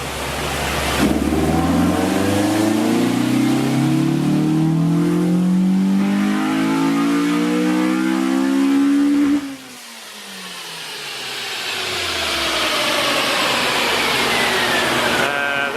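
A 2000 Honda Civic Si EM1 with a B18C Type R engine swap revs hard on a dyno, the loud engine note climbing steadily, cutting off sharply, then winding back up alone with no talk.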